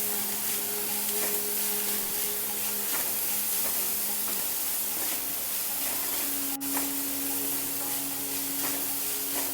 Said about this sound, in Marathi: गाजर कोबी फरसबी आणि शिमला मिरची आपण घातलेलं सर्व साहित्य हाय फ्लेमवर छान फ्राय करून घ्यायचं